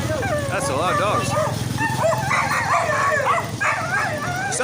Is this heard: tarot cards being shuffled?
no